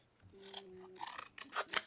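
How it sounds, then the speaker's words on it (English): Scissors cutting, a few quick crisp snips and rasping slices in under two seconds, close and quiet, with no talk. "I say we're gonna use scissors"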